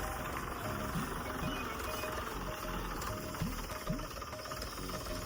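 A tractor engine runs steadily while cutting crop in a field, giving a droning, slightly knocking mechanical hum at moderate distance with faint speech in the background.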